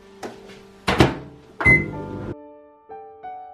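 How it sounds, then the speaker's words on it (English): Microwave oven run for about a minute to warm apricot jam for icing a Christmas cake: a door thunk and clatter, a sustained hum, then soft beeps at the end. "So now this has been in the microwave just for a minute."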